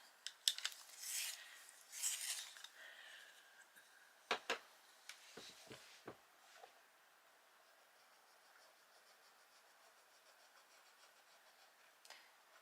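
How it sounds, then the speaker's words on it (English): A colouring pencil is sharpened close up in short scraping grinds over the first few seconds, followed by a few light clicks and taps before things go quiet. "I'm going to have to sharpen."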